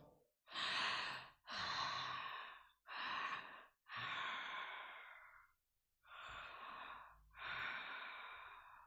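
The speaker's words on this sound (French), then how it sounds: "Respire 3 fois" A person draws deep, slow breaths, six loud, close, breathy inhales and exhales separated by short pauses, heard alone with no speech.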